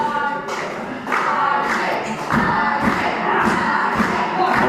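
A wrestling crowd in Batley during a live show, cheering, clapping and shouting in loud bursts with thuds from the ring mixed in, continuous and close.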